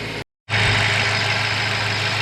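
A car engine runs steadily at idle while its heat dries off the water left from cleaning, a loud continuous hum with a low drone, after a brief cut to silence at the start.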